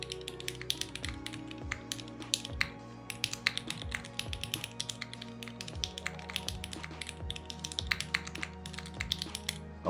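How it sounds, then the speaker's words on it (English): Typing on an Angle mechanical keyboard, first at a normal pace and then hammered hard, producing a fast, close, uneven clatter of sharp key clicks with louder thocks running throughout. "type normally, then very hard"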